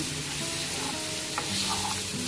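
Fish pieces coated in turmeric fry on high heat with vegetables, giving a continuous close sizzle under soft scraping as they are stirred.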